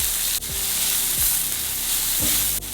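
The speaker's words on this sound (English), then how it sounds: "I'm just gonna cook this on a low medium flame because I just wanna bring out the natural sugar or sweetness in these onions" Sliced onions sizzling on a low-medium flame as they caramelize, a steady close frying hiss throughout with a few soft scraping stirs.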